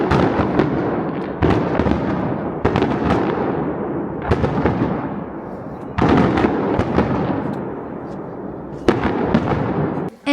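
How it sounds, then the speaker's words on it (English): Fireworks burst over ski slopes beside a hotel in Japan, a series of loud booming explosions at irregular intervals, each followed by crackling decay, with faint crowd voices between blasts. "we arrived just in time to see the fireworks going on right over the slopes"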